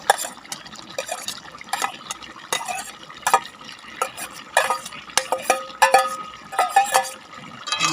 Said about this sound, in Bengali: এখন চিংড়ি মাছগুলোকে ঢেলে দেবো।